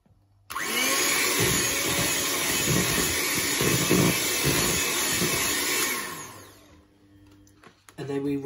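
Electric mixer whirring loudly and steadily for about five seconds as it beats eggs into traybake batter, then winding down and stopping, with a voice speaking over it.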